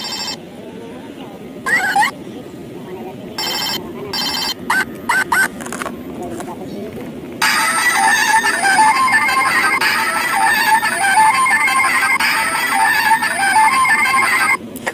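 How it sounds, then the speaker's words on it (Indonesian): Hello Kitty toy telephone ringing with bursts of electronic ringing and toy sounds, short early blips then a longer continuous ring, loud and close amid intermittent talk. "Wow, telepon Hello Kitty ya."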